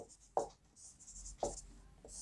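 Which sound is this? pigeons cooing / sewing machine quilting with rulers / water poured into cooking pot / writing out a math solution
writing out a math solution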